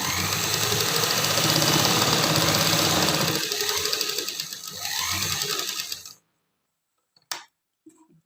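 Sewing machine stitching a pocket onto palazzo pants, a steady loud whirring run for about six seconds that slows and stops, followed by a few faint clicks and taps.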